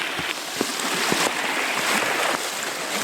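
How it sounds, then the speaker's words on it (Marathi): Floodwater from heavy rain rushes through a farm field like a river, a steady close broadband wash of flowing water with a few faint splashes and knocks, no voices. "हे सर्व जे पाणी येतं इकडून ते आपलं डायरेक्ट इकडे मध्ये म्हणजे शेतातून शिरत आहे त्यामुळे काय बघा नदीसारखं पाणी"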